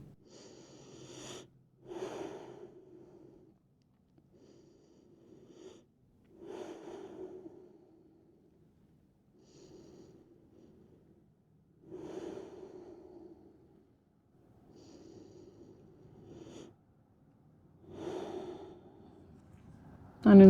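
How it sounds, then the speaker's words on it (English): Slow, deep breaths during a pigeon-pose hip stretch, with soft airy inhales and exhales repeating about every two to three seconds, faint and close with no talking. "3 deep breaths here"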